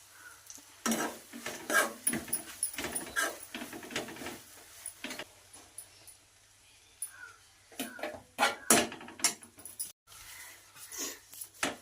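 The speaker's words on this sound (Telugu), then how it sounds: "ఇప్పుడు ఈ శనగపిండి ఫ్రై అయ్యే వరకు అట్టి పెట్టాలి" Gram flour and green chillies stirred in a pan, with repeated scraping strokes and clinks of a spoon against the metal, broken by short pauses and a faint sizzle underneath.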